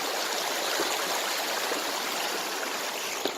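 A clear mountain valley stream in a national park, a steady broadband rush of flowing water, close and constant throughout with no talk.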